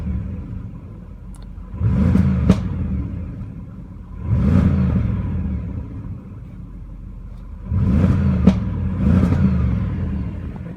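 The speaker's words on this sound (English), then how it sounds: "I do have the exhaust in dynamic mode" A 2018 Audi S6 4.0T engine, exhaust in dynamic mode, revs up four times in short bursts, each rise roaring then falling back to idle, with sharp crackles and pops from the exhaust.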